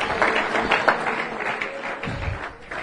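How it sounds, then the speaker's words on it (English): A church congregation claps along during a preacher's sermon, a dense, continuous patter of many hands with voices mixed in underneath. "somebody clap their hands unto God and say"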